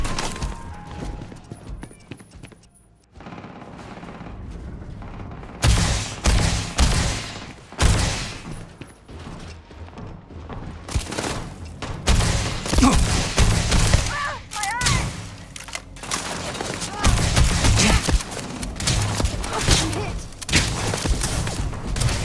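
Loud, dense gunfire from the Starfield video game, with rapid bursts of shots and impacts that come and go through the clip, after a short quieter stretch near the start.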